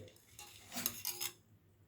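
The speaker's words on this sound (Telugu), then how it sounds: "బెల్లం కరిగిపోయే వరకు ఇలానే తిప్పుకుంటూ ఉండాలి" A spoon scrapes and clinks against a pot as jaggery is stirred into cow milk for making junnu, a few quiet metallic taps and swirls close by, with no one talking.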